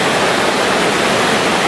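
Waterfall pouring over a Foursevens Preon 2 flashlight, a dense, loud, steady rush of water filling the whole stretch with no other sounds.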